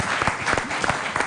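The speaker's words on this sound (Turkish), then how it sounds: "Kocaman bir alkış o zaman Şehnaz Hanım'a." A studio audience on a Turkish TV show breaks into a short burst of clapping, loud and close, with a few distinct claps standing out from the dense patter.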